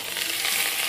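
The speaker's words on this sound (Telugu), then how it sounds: "చక్కగా ఇలా వేగేంత వరకు వేసుకొని పోపు అయితే వేగిపోయిందనమాట" Tempering spices fry in a hot pan with a loud, dense, steady sizzle that crackles brightly throughout, with no voices over it.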